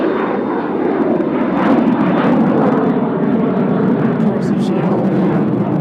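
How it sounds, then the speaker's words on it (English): An airplane taking off at Nashville International Airport, bound for Des Moines, Iowa: a loud, continuous engine roar with steady broadband rumble that holds strong throughout, heard up close with no voices over it. "This plane's going to Des Moines,"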